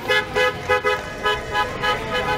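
A car horn toots in a rhythmic pattern of about six short blasts during street celebrations before a Peru versus Paraguay football match, loud and close, with faint crowd noise underneath.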